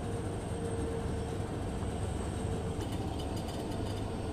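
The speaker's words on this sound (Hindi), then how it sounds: "ट्रेन अंधेरे में चली गई है।" The Goa Express rolls along at night with a steady, loud rumble and rattle of railcars, continuous and enveloping with faint higher clatter near the end, no voices.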